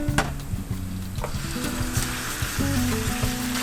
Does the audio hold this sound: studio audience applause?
no